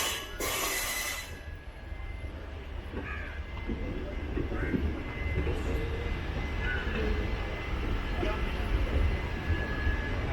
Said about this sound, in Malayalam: ജബൽപൂർ കോയമ്പത്തൂർ എക്സ്പ്രസ് ആണ്